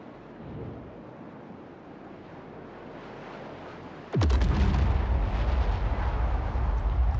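A size-5 bomb dropped from a Crusader Spirit A1 in Star Citizen lands as one sudden, heavy explosion partway through, followed by a loud, sustained rumble over steady wind-like background noise.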